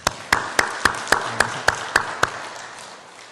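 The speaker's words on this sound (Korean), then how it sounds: "저희 박수로 환영하겠습니다" A church congregation claps during a worship service to welcome visiting family members: about nine sharp, evenly paced claps ring out clearly, then fade to quiet room tone.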